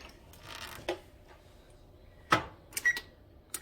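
An oven's control buttons are pressed to preheat it to 400 degrees, giving a few faint electronic beeps and button clicks spaced apart in a quiet kitchen.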